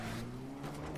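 A Ferrari driving in the video game Dead Rising 3, with a sustained engine hum and tire noise, fairly quiet and continuous for a brief moment.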